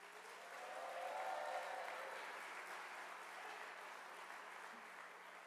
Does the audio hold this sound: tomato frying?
no